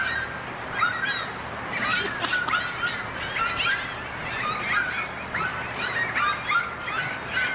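A flock of seagulls calls continuously, a busy mix of overlapping squawks and honking cries at moderate loudness, with no pause.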